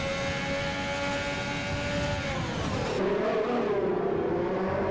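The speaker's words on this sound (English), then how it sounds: "The ghosted Mercedes diving up the inside there." A Mercedes race car engine in a racing video game, a steady high revving drone with rising and falling pitch as it shifts and brakes into a corner, continuous and close.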